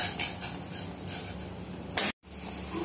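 Penne pasta stirred in a pot of boiling water with salt and oil, a spoon scraping and sloshing in a few short bursts over a steady bubbling hiss, with a brief dropout near the end.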